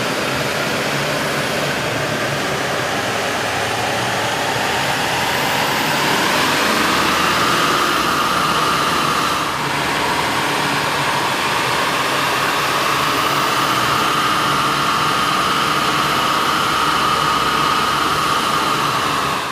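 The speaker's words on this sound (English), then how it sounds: "we ran the vehicle on the dyno to test the sound comparison versus the stock intake." A 6.6-liter diesel pickup fitted with a K&N cold air intake runs on a dyno, making a loud, continuous engine roar with a rising whine and intake hiss that lasts throughout.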